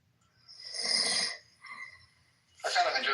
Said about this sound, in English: I kind of enjoy listening to him snore.